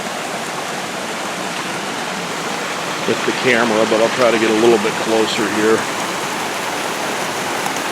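Water rushing through big boulders below a waterfall at McConnells Mill creek, a steady loud roar throughout, with someone talking over it midway.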